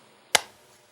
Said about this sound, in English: I can hear it when I clap my hands together, like this